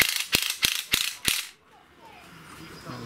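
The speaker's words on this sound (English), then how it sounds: "So I've just started a couple of screws going in here, so let me just finish these driving in." Screws driven into wood while building a traditional bird table, five sharp ratcheting bursts in quick succession up close, then near silence with faint handling.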